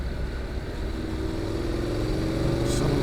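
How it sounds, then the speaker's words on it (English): A Honda NC750X motorcycle with a GPR muffler accelerating out of a tight corner, a continuous loud engine drone with a deep pulsing exhaust note that climbs slightly in pitch, heard close up with steady wind noise. "hear the muffler kicking in and bottom end torque"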